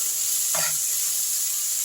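Potatoes frying with onions in a pan, a constant bright oily hiss with one brief scrape or stir near the middle, close and steady.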